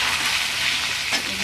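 Potatoes fry in hot oil with ginger in a pan, a brief, dense, continuous sizzle heard up close with no voices.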